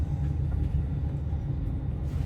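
Train rumble at a station platform, a steady low mechanical drone that holds at an even level throughout with no voices.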